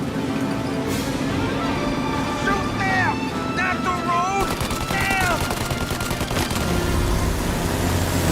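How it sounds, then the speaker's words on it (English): Gunfire in the video game Mafia: Definitive Edition during a car chase, rapid bursts of shots mixed with engine noise and tense shouted voices, loud and dense, the shooting heaviest in the second half. "Shoot them! Not the road! Them!"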